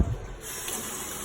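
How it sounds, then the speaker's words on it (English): Water rushes and gushes steadily as a sauce bottle is rinsed out while a beef ragu is being made, a continuous close splashing sound lasting about a second. "Always rinse out your bottle with water."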